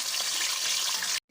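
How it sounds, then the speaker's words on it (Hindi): Minced mutton keema hits hot oil in a pan, giving a loud, dense, steady hiss that holds for about a second before cutting off abruptly. "तो इसमें हम अपना कीमा ऐड करेंगे।"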